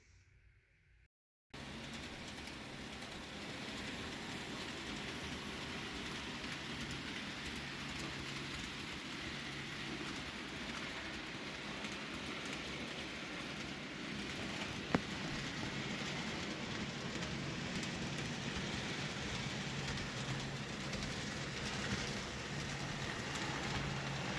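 A small model train pulled by two large Northwestern locomotives runs continuously around a layout, a steady whirring rumble with faint clicking of wheels on track after a brief silent start.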